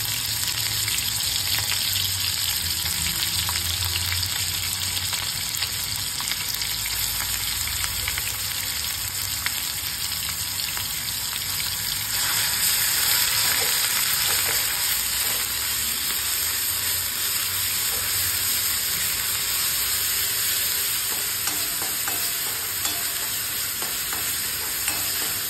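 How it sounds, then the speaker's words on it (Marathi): Spiced masala paste frying in oil in a kadhai while being stirred, giving a steady close sizzle with scraping stir strokes that continues throughout, with no talking. "हा जो मसाला आहे ना जोपर्यंत ह्याला तेल सोडत नाही तोपर्यंत हा छान असा परतून घ्यायचा किंवा छान असा भाजून घ्यायचा।"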